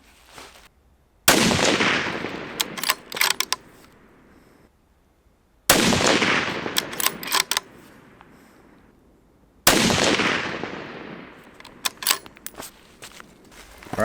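Three single rifle shots from a Browning X-Bolt at a 100-yard range, each a loud sharp crack with a ringing tail and a few seconds of quiet between, no talking.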